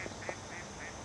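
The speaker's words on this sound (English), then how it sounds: "you can see some ducks right there" Ducks at a lake in autumn give a few short quacks at moderate distance, spaced over about a second against a soft outdoor background.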